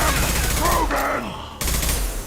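Dense, continuous gunfire rattles through a firefight in the video game Mass Effect 2, with a voice calling out over the shooting before the noise briefly dips and then resumes.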